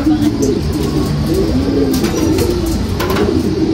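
Pigeons coo close by in a steady, overlapping low warble that never pauses, with soft rustling underneath.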